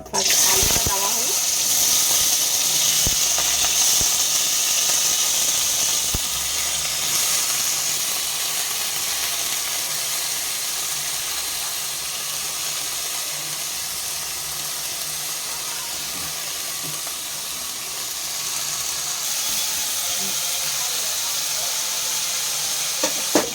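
Potatoes frying in hot oil with whole cumin in a wok, a steady loud sizzle that fades slightly to a softer hiss, with a person talking intermittently over it.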